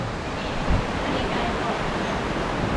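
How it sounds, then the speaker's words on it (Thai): A waterfall at Mae Kampong roars as a steady, dense rush of falling water, loud and continuous throughout with no breaks. "ดูน้ำตกสิ"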